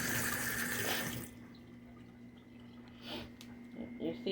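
Water from a kitchen sink faucet runs loudly for about a second, rinsing something, then cuts off, leaving quiet handling clatter and faint drips.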